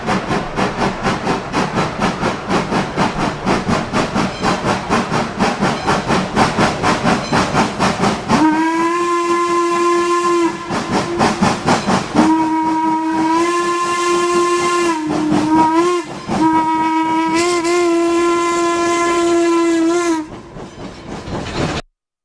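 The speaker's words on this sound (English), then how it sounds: "How do you film a train tooting with that clarity?" Loud steam train whistle in a train simulator game, sounding in long sustained toots with brief breaks between them, over steady hissing and rail noise, no talking.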